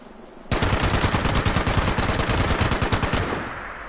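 Rapid automatic gunfire in the video game Fallout 76, a loud close burst of evenly spaced shots that starts abruptly and runs for about three seconds before trailing off.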